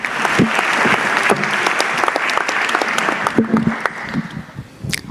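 Audience at a national youth forum on corruption in Kenya applauding, loud, dense clapping with distinct sharp claps throughout, tapering slightly toward the end.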